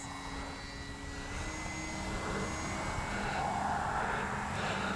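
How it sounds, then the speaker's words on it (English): A Durafly Brewster F2A Buffalo RC model warbird flies overhead at dusk, its electric motor giving a steady, moderately loud whine and drone that swells slightly as it passes, with no talk. "Great flying little jet. Little Warbird."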